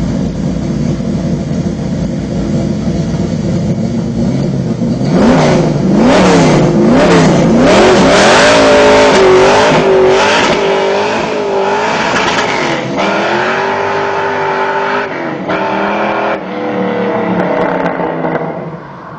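A Chevrolet Impala muscle car engine rumbles close by, then revs repeatedly in loud rising and falling bursts before easing back toward a throaty idle.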